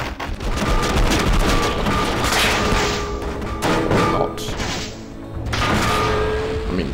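Grenades going off in Cortex Command, a run of heavy booming blasts and thuds in quick succession, loud and dense with brief gaps between bursts.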